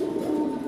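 Pigeons, including desi birds, give a brief, soft, low coo that hums steadily for under a second at moderate distance, alone without talk.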